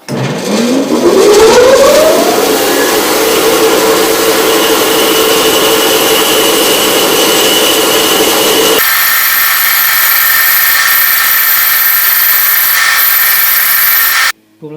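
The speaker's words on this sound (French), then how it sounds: "je vais découper ça à la scie" A loud power saw spins up and cuts steadily through a 24 mm metal casing, the whining grind continuing for several seconds before the tone shifts and then stops.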